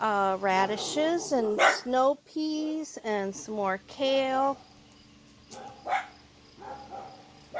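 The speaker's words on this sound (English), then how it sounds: "And sorry about my dogs." Dogs barking on a homestead garden plot, short barks and yips mixed in among a person talking nearby, with quieter gaps between bursts.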